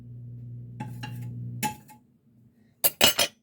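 Pan with butter residue heating on a stove, a low hum followed by several sharp metallic clinks and clanks, the loudest bunched together at the end.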